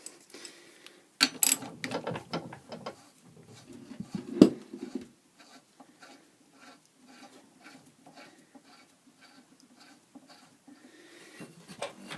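A ratchet tightens a bolt on the drive belt assembly of a Snapper lawnmower, giving quiet bursts of clicking with a few louder knocks near the start and middle, then steady, faint rhythmic ratcheting.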